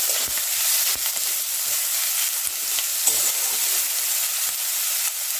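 Baingan bharta masala roasts in a pan while being stirred and browned until light pink. A steady, dense sizzle of frying runs throughout, broken by repeated scraping knocks of the stirring spoon against the pan, with no talking.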